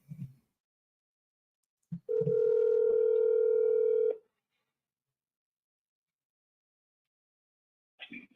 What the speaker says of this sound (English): let me make a phone call